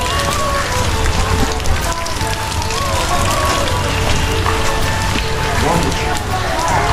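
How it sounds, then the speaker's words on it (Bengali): Rain falls steadily in the garden of Rabindra Kachari Bari in Sirajganj, a dense, even patter close by, with a voice talking over it. "বৃষ্টি"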